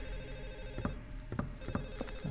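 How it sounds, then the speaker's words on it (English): A telephone ringing in the video game Silent Hill 4: The Room, with short repeated electronic rings in a steady rhythm over a dark ambient drone. "Let's try and find this phone call."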